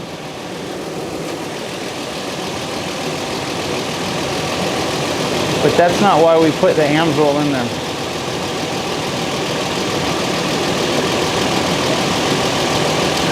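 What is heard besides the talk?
2006 Toyota engine idling after oil change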